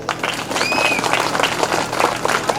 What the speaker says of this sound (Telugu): ప్రేమ ఉంటే అందరు క్లాప్స్ కొట్టండి